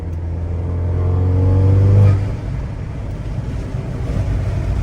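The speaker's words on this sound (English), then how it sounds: "that turbo sound and the intake is sexy" A 10th-generation Honda Accord's engine revs up with a whooshing turbo and intake roar, peaking then easing off into a steady rumble with wind noise.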